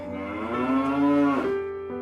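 A single cow moos in one long, loud, close call that rises and then drops in pitch toward the end, standing alone with no voices around it.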